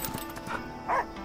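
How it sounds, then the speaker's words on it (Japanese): A dog in the video game Last Day of June gives a couple of short, close barks against a soft background of game music. "犬。"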